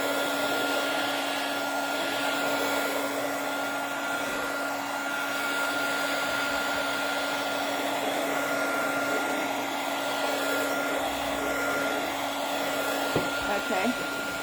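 A heat gun blows steadily to dry paint before a stencil goes on, a constant loud whooshing hum with a fixed whine, close and unbroken for the whole stretch, with no talk over it.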